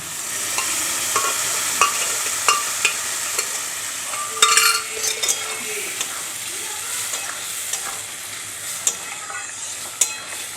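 Fried onion, garlic and spices sizzle loudly in a pan as boiled dal is added and stirred, a constant hiss broken by sharp scrapes and splatters, with no talking.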